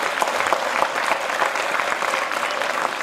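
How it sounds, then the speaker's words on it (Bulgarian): Sustained, even applause fills a school celebration hall, many hands clapping at a steady level with no pauses for the whole stretch. "Аплодисментите за вас."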